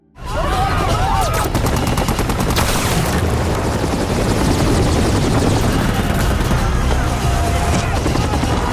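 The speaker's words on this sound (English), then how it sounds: "Suddenly, helicopters roar overhead." Loud, continuous helicopter rotor roar dominates from start to finish, with bursts of rapid gunfire-like cracks mixed in.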